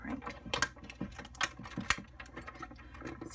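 A manual die-cutting machine being cranked by hand, producing mechanical ratcheting clicks and a few sharper clacks at uneven intervals, close and moderately quiet, with no talking.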